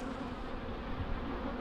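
Honey bees from strong hives buzz steadily around the hives, a continuous close insect drone with no talk over it.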